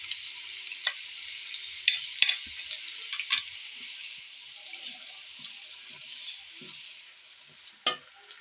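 Onions cooking with cumin in a pan over slow-medium heat, a steady hissing sizzle throughout with occasional sharp clinks and scrapes of a spoon against the pan, close up and without talk.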